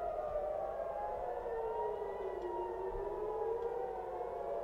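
An air raid siren wails over Tel Aviv during the Israel-Iran war, a steady, loud rising and falling tone that carries on alone for the whole stretch.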